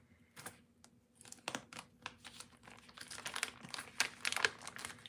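Plastic packaging crinkles and rustles during an unboxing, with irregular close crackling bursts and a few sharp crunches that grow busier toward the end, and no talk.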